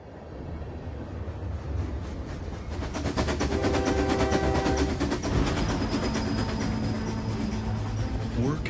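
A train rolls along a railroad with a steady rumble, rising clatter of wheels and a tonal engine whine that swells midway, heard at close range without speech.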